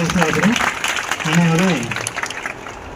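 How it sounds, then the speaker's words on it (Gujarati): Audience applause at a school admission and girls' education festival at an ashram school, a steady crackle of clapping heard under a loud voice talking. "તાળીઓથી વધાવી લઈશું આપણે"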